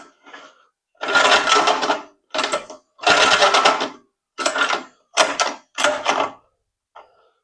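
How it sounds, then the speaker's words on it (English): A Hover Hearts MB001 mini bike's pull starter is yanked about six times in quick succession, each pull a loud, rasping whir lasting under a second and separated by brief gaps, close to the mic with no talk. "Pull starter sounds a little sick"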